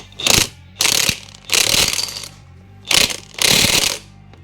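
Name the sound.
impact wrench tightening alternator rotor screw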